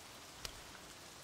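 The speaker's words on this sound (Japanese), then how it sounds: "これ以上強い雨になっちゃうとやばいかもね" Soft, faint rain falls steadily under a roof at an outdoor spot, a quiet hiss with one or two sharper drip taps standing out.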